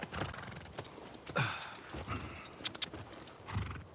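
Horse sounds in The Last of Us Part II, with hoof clip-clops and a brief whinny, scattered over a few seconds, slightly synthetic and close.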